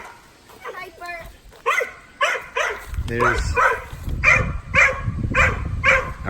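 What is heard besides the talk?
dog barking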